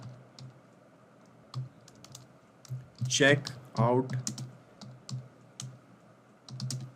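Fingers tap out a message on a computer keyboard as light, scattered clicks over a faint hum. A person speaks briefly in the middle while the typing continues.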